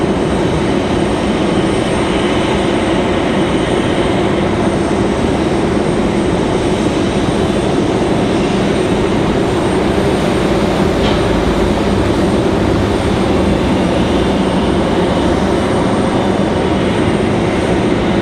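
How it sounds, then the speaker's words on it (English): An American Airlines Boeing 737-800 lands, a steady, loud roar of jet engines and rushing air rolling on without a break and with no voices over it. "This one's a 737-800 for American Airlines."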